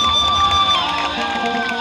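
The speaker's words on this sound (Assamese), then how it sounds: "এটা হাত চাপৰি বিচাৰিছো আপোনালোকক।" A crowd claps and cheers together at a live Assamese cultural stage event honouring Vaishnava saints, a dense, steady wash of applause with music tones ringing over it throughout.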